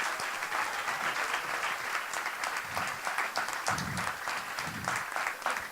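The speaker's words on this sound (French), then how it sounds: "Alors, une bonne main d'applaudissements." An audience claps steadily and continuously at a moderate distance, a dense patter of many hands with no voices standing out, during a short French-language interview.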